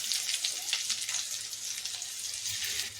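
Chillies frying in a pan for quick noodles, a steady bright sizzle that stays loud and even throughout with no pauses.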